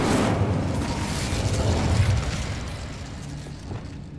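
Incendio fire-spell blast in the video game Hogwarts Legacy, a loud, broad roaring burst right from the start that rumbles on and slowly thins out over several seconds.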